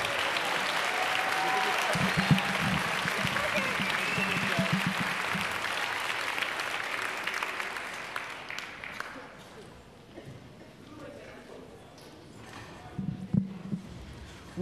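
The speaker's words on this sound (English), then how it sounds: "a nice round of applause for our wonderful" An audience at a school instrumental Christmas concert applauding young performers, a steady wash of clapping from a large hall that fades after about nine seconds, followed by quieter room noise and some speech.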